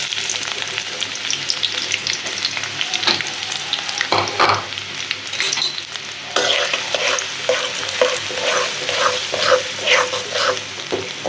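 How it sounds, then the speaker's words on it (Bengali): Spice paste fries in hot oil in a wok for river fish bhuna, giving a continuous close sizzle broken by repeated scraping stirs throughout. "পেস্ট একটু সুন্দর করে লাল লাল করে ভাজা ভাজা করে দিই"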